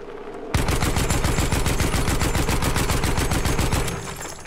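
A mounted gun in the Battlefield 1 video game fires one sustained, rapid automatic burst, loud and close, with evenly spaced shots that start abruptly and fade out at the end.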